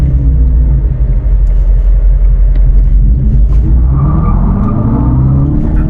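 An electric car launches in drag mode with launch control, a steady deep rumbling roar that rises higher as it accelerates, loud and close throughout.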